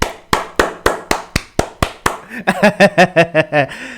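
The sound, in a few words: hand clapping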